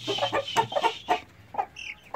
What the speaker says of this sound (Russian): С тобой пришел разбираться петух.